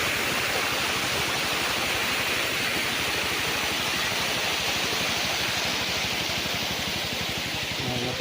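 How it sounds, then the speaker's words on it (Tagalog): Strong flow of spring water at a farm lot in Lucban, Quezon, a loud, steady rushing wash of water, close and continuous, with no talk. "ang agos ng tubig ng lakas."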